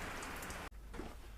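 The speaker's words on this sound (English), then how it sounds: "Rain stops play." Steady rain falling outdoors, a dense, even hiss of drops on surfaces that is briefly cut off and then continues at a quieter level, with no voices.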